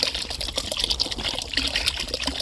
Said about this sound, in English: I'm going to add some more junk to it, which is this expired bottle of crawfish crab sauce